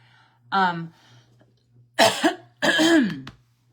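A person clears their throat and coughs several times in short, harsh bursts separated by brief pauses, close to the microphone.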